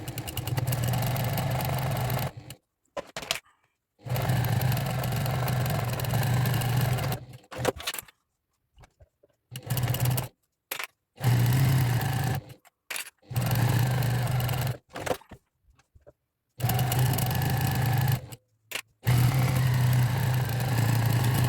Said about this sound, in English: I've just gone and put the walking foot on my machine